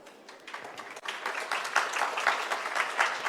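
An audience at a panel session on greening food and land use breaks into sustained applause, a dense wash of many clapping hands that swells and holds steady.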